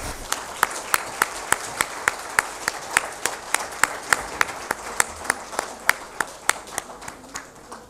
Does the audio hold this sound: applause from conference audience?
yes